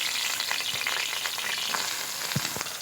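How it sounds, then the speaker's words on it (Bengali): Soaked soybean chunks fry in hot oil with a constant, close sizzle, while a few soft clicks and scrapes from stirring come through. No one talks. "দেখো তেলের ওপর ভেজে নিচ্ছি সয়াবিন"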